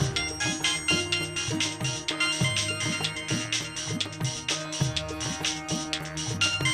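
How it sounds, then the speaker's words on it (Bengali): A telephone plays a melodic ringtone, a repeating musical phrase that rings continuously and fairly loud with no other sound. "এখন আবার কে ফোন করলো"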